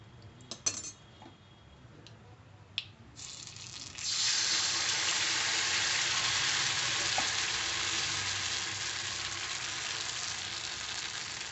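Oil is poured into a hot pan for vattayappam, and after a few clinks a strong, steady sizzle starts suddenly and holds close and even to the end. No one speaks.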